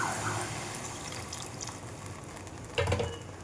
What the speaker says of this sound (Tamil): இப்போ தேவையான அளவுக்கு தண்ணி போட்டு